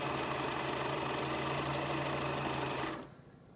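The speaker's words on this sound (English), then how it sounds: "And just sew it through." A sewing machine runs a steady, fast, humming stitch through fabric while making a face mask. It is fairly close and continuous, then stops abruptly near the end, leaving a quiet room.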